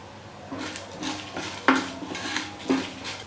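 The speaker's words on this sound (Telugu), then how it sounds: "కొంచెం దోరగా ఫ్రై చేసుకోవాలి." Spices including dried red chilli, cumin and coriander seeds being fried in a pan for curd chutney, heard mostly as a ladle scraping and clinking against the pan in several strokes over a faint sizzle.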